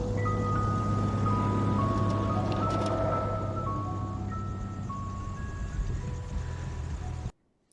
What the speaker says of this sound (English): So I'm going to play what the ice cream truck sounded like in the movie